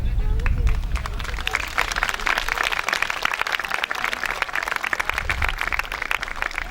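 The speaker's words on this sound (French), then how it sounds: "C'est des petits applaudissements." Audience applause greets the Clisson duchesses Grâce and Manon at the Médiévales festival, a steady crowd clapping with crowd murmur that holds for several seconds.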